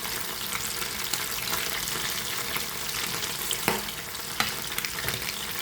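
Fish frying in oil gives a steady, dense crackling sizzle close by, with a couple of sharp pops near the end.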